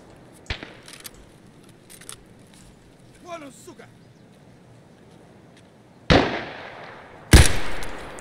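Gunfire in the game Escape From Tarkov: two loud, close shots ring out about a second apart near the end, after quieter clicks, voices and faint in-game noises.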